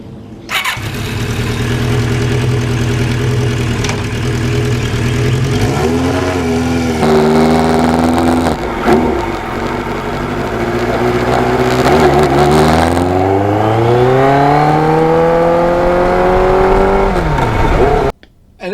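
Motorcycle engine runs continuously as the bike is ridden, loud and close, with shifting pitch as it revs up and settles through the gears.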